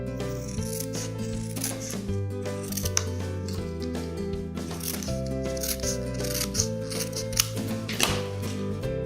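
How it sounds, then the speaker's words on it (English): Scissors snipping through paper along the inside of template lines, a series of crisp close cuts heard under a steady music bed with no talking. "So if I cut inside the lines this time"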